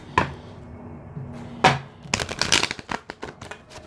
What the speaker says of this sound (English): 3 more shuffles for Virgos